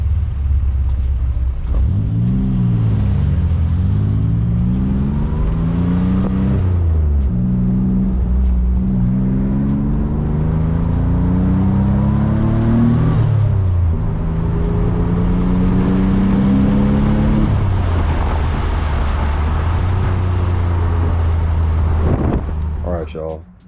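A Nissan 300ZX Z31 with a 940 engine swap drives along, its engine rumbling loudly and rising in pitch through repeated accelerations as it shifts up, with a person talking over the drive.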